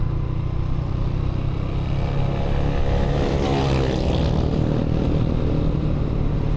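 A Honda Click scooter engine drones steadily and strains climbing a hill in Batangas, a continuous motor hum with rising whine, fairly close.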